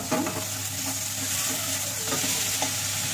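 Spice paste with ground cumin frying in a pan for a fish-head murighonto, a steady sizzle with occasional stirring scrapes throughout, no talking.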